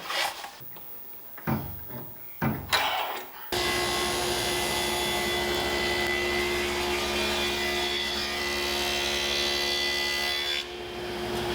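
A table saw cuts a wooden bottom tool tray in a small woodworking shop. A few wooden knocks and handling thumps come first, then the saw starts and gives a loud, steady whine that runs on for several seconds.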